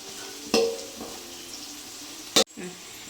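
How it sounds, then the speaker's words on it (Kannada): Chopped onion frying in ghee in a pan for a colocasia leaf dish, with a steady soft sizzle broken by a couple of sharp scraping stirs, close and fairly loud. "ನೀರುಳ್ಳಿ ಕೆಂಪು ಕಲರ್ ಆಗೋದು ಅದನ್ನು ಮುಟ್ಟ ಫ್ರೈ ಮಾಡ್ಕೊಳ್ಳೋದು"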